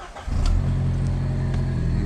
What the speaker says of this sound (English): I got the exhaust done, so let's fire this car up for a second and tell me what you think.